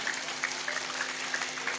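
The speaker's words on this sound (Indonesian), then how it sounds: "tepuk tangan dulu nggak apa-apa" Listeners at an Islamic comedic sermon in Bongas offer light, scattered clapping, faint and somewhat distant, forming a soft continuous patter with occasional sharper individual claps.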